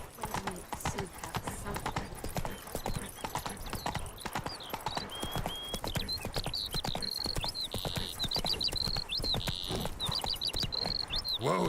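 Roach the horse in The Witcher 3: Wild Hunt trots with a brisk, steady clip-clop of hooves, close and continuous, while a whistling tone rises toward the end.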